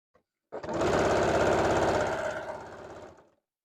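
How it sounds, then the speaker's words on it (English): A sewing machine stitches a qaspeq vest in one close, loud, rapid burst of rhythmic clatter lasting about three seconds and then slowing to a stop, preceded by a tiny click. "I'm going to grab it here and just pinch sew again."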